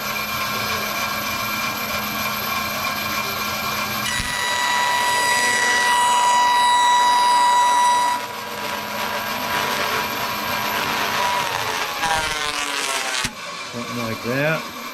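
A bandsaw fitted with a miter gauge cuts a slot in a wooden board; its motor whine rises and shifts in pitch as the blade bites, while someone talks over the machine.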